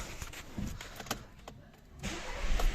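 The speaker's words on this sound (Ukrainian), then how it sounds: "Запускаємо двигун, запускається з півоберта" A 2013 Skoda Superb 1.8 TSI engine cranks and catches quickly, then settles into a low running rumble, with some clicks and mechanical noises around it.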